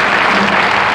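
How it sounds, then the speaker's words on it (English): A television studio audience applauds a twist singer on a variety show. A loud, dense wash of clapping fills the room evenly from start to finish, with no voices over it. "Let's have a wonderful hand for him"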